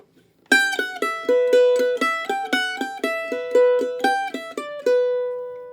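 A mandolin picks a quick, bright Irish reel phrase in eighth notes, evenly spaced plucked notes, close and clear, ending on a ringing held note.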